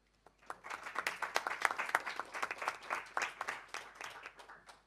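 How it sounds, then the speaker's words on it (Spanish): Applause from an audience at a Latin American conference on housing solutions for people with disabilities, steady dense clapping that builds quickly and holds, moderately close, with faint voices underneath. "Te mandamos muchos aplausos desde Viena."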